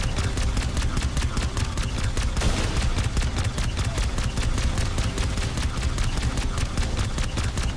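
Automatic gunfire from a weapon in a video game, sustained rapid bursts running nonstop and loud throughout with hardly a break.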